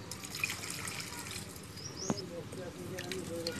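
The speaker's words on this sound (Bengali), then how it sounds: "তারপর জল ঢেলে 2-3 বার ভালো মতন ধুয়ে নিলেই মাছটা পরিষ্কার হয়ে যাবে।" Water poured over small fish as they are rinsed, a soft steady trickle close by with one brief splash, a voice talking over it.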